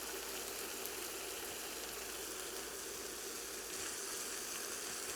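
Beef drippings and butter sizzle in a pan as garlic sautés, a steady, soft, even hiss with no break and no talking.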